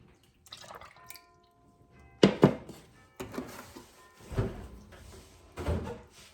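Milk poured into Amish friendship bread starter, a quiet, close liquid sound broken into short irregular splashes and drips over a few seconds in a calm room.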